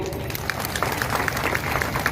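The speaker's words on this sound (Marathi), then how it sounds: "बघा कशा टाळ्या वाजतात." A crowd at a political rally in Chakan claps and applauds, a dense burst of many hands heard at close range for a couple of seconds.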